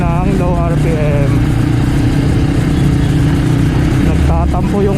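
A Honda AX1 250cc supermoto running at low RPM, loud and near, with a few brief rev swells over steady wind roar and a rough, uneven engine note.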